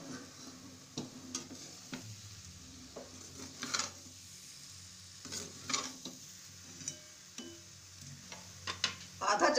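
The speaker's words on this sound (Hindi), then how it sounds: "गोलियों को हम मीडियम फ्लेम पर ही भूनेंगे।" Moong dal balls frying in a little oil over a medium flame, a soft low sizzle broken by repeated utensil clicks and scrapes against the pan, with a brief louder hiss at the close.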